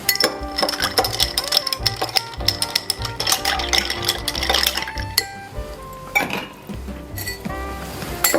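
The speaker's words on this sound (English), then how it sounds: "This will just be a little stir again." Ice and a spoon clink and rattle inside a glass as an Old Fashioned cocktail with orange bitters is stirred, a busy run of close, bright clinks and scrapes with brief pauses.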